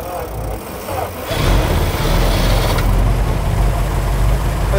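A 314 cubic inch V8 catches and starts after a short quiet stretch, then settles into a loud, steady low rumble heard up close.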